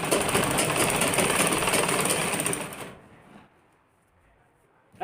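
A sewing machine stitching a collar kurti runs in a steady, loud mechanical whir for about three seconds, then stops and leaves near silence.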